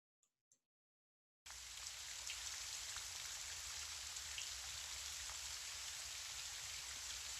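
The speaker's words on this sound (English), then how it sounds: "So you can hear the sound of the rain in the background." Steady gentle rain falls without pause as a soft, even hiss of drops, heard alone after a brief quiet start with a couple of faint taps.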